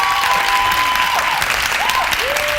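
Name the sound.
studio audience applause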